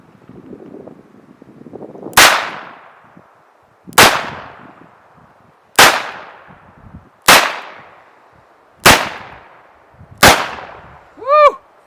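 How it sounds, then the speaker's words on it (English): Colt revolver fired double action at an outdoor range: six loud, sharp shots spaced roughly every one and a half to two seconds, each with a ringing decay, followed by a brief metallic sound at the end. "we're gonna shoot this in double action"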